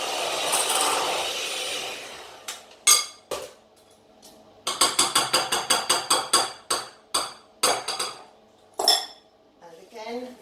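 A spatula scrapes and knocks against a mixing bowl while stirring chocolate brownie muffin batter, giving a run of quick clinking strokes in bursts, close and fairly loud, with a softer rustling stretch at the start.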